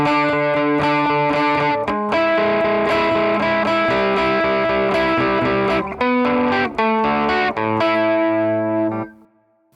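Distorted electric guitar playing the verse riff of a song, thick sustained chords strummed in a steady pattern with brief choppy stops before ringing out and fading at the end.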